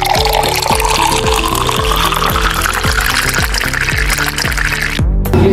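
A shot of liquor poured before cooking, a steady liquid gurgle and glugging that runs continuously for several seconds with rhythmic bottle-neck pulses, close and fairly loud.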